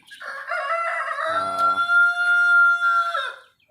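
A Rhode Island rooster crows loudly and close by, one long drawn-out call with a brief cackle mixed in.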